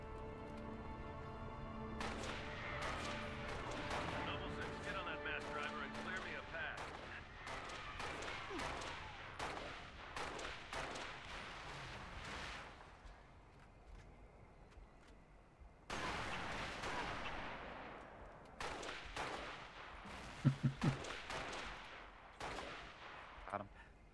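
Rapid gunfire from Halo: Reach, including sniper rifle shots, cracks out repeatedly in loud bursts with dense volleys, brief lulls and scattered single shots over a long stretch of combat.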